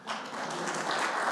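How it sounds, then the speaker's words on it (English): An audience at a Governor's Millennial Council event in the Virgin Islands breaks into applause, a brief wash of clapping that swells and holds. "You could clap for her."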